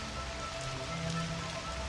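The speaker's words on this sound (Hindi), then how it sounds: "रात गहराते गहराते बारिश थोड़ी कम हुई।" Steady rain patters on a surface, a dense, even hiss of drops with no voices.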